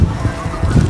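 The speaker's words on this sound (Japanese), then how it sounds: "鳥の声すごいっしょ。" Birds call loudly and close in a park in Richmond, England, with a cluster of clucking, cooing fowl-like sounds filling a brief moment.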